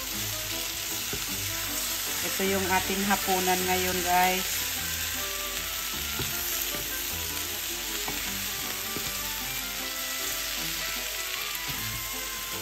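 Egg and homegrown bitter melon (ampalaya) sautéing in a pan, a steady sizzle and crackle of frying that swells briefly mid-clip, with a person speaking quietly over it.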